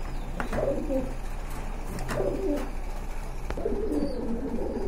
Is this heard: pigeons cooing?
yes